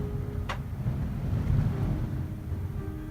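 Strong wind from a New England snowstorm, heard from an attic, makes a steady, heavy roar that gusts on without a break, with a faint creak early on.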